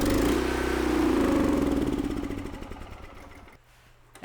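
The engine of a Mi-T-M 4000 PSI pressure washer runs loud and close with a steady rumbling drone, then sags and sputters as it dies down, ending in near silence with a faint pop.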